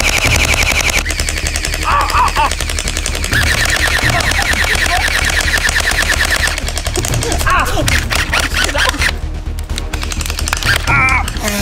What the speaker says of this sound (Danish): Hvis man trykker her på enden, så er det fuld auto.